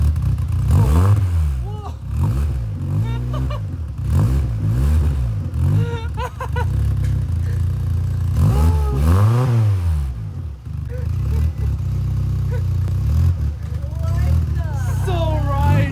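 A new Volkswagen car engine revving, rising and falling in several repeated pulls of the throttle close by, with people talking and exclaiming over it.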